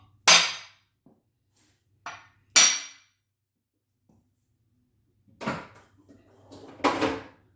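A few sharp knocks tap an engine crankshaft to set the thrust during a 305 engine build, four or five isolated hits spaced by silence, close and crisp.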